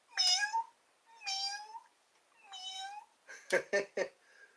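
A cat meows three times in separate, drawn-out calls, close and fairly clear, followed by a quick burst of shorter, harsher chirping cries.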